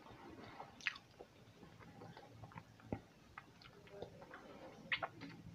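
Rubbery raw fish from sushi rolls chewed close to the microphone during a mukbang meal: quiet, wet, squishy chewing with scattered soft clicks and a few sharper bites.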